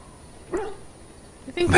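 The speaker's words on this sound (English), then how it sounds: "Dog." In the fantasy video game Dragon Age: Origins, a dog gives two short, gruff barks at a campsite, the second louder and closer than the first.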